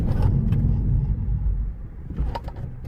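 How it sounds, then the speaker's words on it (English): Manual-transmission car making an emergency stop with clutch and brake: steady low road and engine rumble from inside the cabin, easing slightly as the car slows, with a couple of faint clunks near the end. "Emergency stop in 3, 2, 1."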